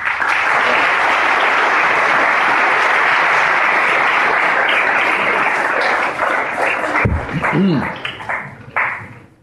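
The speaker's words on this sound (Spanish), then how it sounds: "Démosle un fuerte aplauso a los demás" A church congregation applauds loudly during a Catholic Mass. Dense, steady clapping holds for about seven seconds, then thins out into a few scattered, fading claps.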